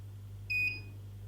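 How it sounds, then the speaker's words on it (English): A single electronic beep from an appliance test device sounds once, lasting about half a second, with harmonic tones over a steady low mains hum; no talking. "stop beeping."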